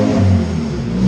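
Turbocharged Honda CR-V engine revving hard on a dyno with a wide-open downpipe and no exhaust, a loud, steady, raspy mechanical roar that holds for about a second.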